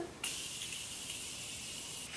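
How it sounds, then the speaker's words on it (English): Morphe Continuous Setting Mist sprayed onto a face during makeup application: a single sustained, fine hissing mist lasting about two seconds, close and steady, alone without speech. "Spray my face with some of my setting spray"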